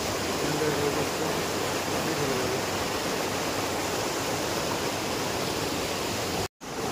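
Upper Ghaghri waterfall in Netarhat, Jharkhand, heard from a distance as a loud, constant broadband rush of falling water that stays steady throughout, cut by one brief dropout near the end.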